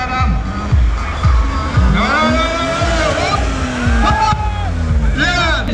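Drifting car in a drift-parking contest, its engine revving hard in rising and falling sweeps with tire squeal, loud and close, while people shout and talk over it throughout.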